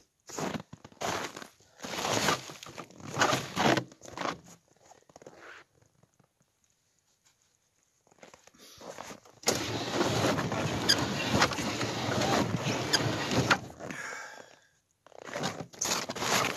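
Ice being chipped out of a frozen snowmobile's steering in small chunks, heard as close bursts of scraping and crunching, then a long steady stretch of grinding scrapes, separated by near-silent pauses.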